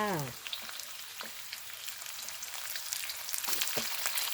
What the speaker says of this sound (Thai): เราก็ใส่หมูลงไปเลยค่ะ